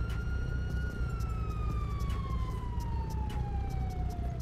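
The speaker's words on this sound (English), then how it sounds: "We got the siren on." A police siren wails in GTA 5, a long steady descending tone sounding loud and continuous over a rumbling engine bed, with faint intermittent clicks and no clear talking.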